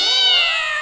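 A cat gives a single loud, close meow that rises and then falls, heard alone in a home where children are sneaking Holi sweets.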